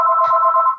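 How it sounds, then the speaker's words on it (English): A telephone rings loudly and steadily, an electronic tone sustained for almost a second before cutting off, with no voices over it. "sorry about the phone. It never rings."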